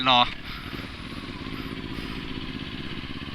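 Motorcycles pulling away across a wide open area, a steady droning engine rumble held close throughout, with a brief loud burst at the start and a voice talking over it.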